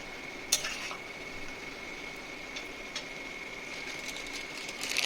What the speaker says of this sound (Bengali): তো দিয়ে এটাকে আমি এখন মিশিয়ে নিচ্ছি